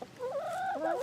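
A single close chicken call, a short rising and falling squawk lasting about a second, with no voices.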